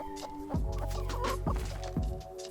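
Chickens in the survival game Rust cluck in short repeated bursts, fairly close and clear, with a few distinct clucks spaced about half a second apart over a steady low background hum.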